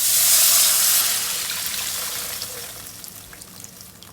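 Tamarind water pours into a hot pan with a bright hissing rush that fades into a soft sizzle and scattered crackles.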